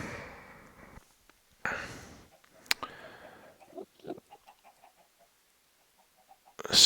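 Chicken clucking in the video game Minecraft, a string of short, soft clucks spaced out after a few louder rustling thumps, fairly quiet overall with no one talking.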